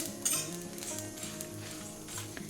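Dry roasting spices and dried red chillies in a pan, a faint scrape and clink of a metal spoon stirring with soft sizzling, close and quiet with no talk.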